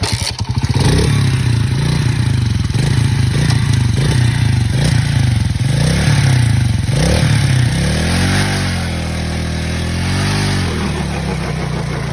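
A motorcycle-style engine on a Mustang revs in loud, rhythmic bursts with throaty pulsing, then settles into a lower, wavering idle for the last few seconds, close up with no talk.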